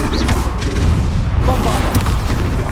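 Hogwarts Legacy combat with the Confringo blasting spell: continuous loud booming blasts and rumbling thuds, over a dense spell-combat soundscape with some voice mixed in.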